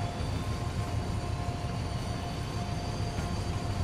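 A BR 612 train in Transport Fever 2 produces a steady, dense rumble of rail noise, with a constant low roar and faint tonal whine throughout and no distinct events.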